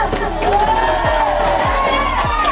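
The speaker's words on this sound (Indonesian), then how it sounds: "Berikan aplaus kepada calon nomor urut 4." A school audience at a student council (OSIS) candidate debate erupts in loud crowd cheering and whooping, with shouts and thumps over a dense roar that fills the whole short burst.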